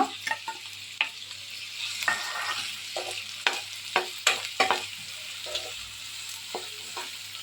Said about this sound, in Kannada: अब इसमें हम डालेंगे बारीक कटे हुई प्याज